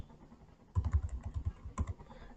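Quick bursts of keystrokes on a computer keyboard, close and fairly quiet, with a short pause before a final pair of taps.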